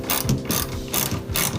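Ratchet clicking rapidly while loosening 10mm bolts on the radiator of a 2008 Kia Sportage, with bursts of close, loud pawl clicks in quick repeated strokes.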